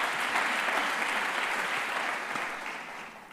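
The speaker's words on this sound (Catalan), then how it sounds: "Un aplaudiment per ella." Applause from the audience at a local communication awards ceremony, the Carles Rahola prizes, greeting a journalist presenter as she comes up; steady dense clapping that tapers off slightly toward the end, with no talk over it.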